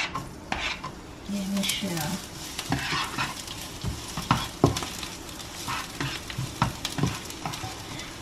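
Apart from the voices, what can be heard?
garlic and onion sautéing in a pan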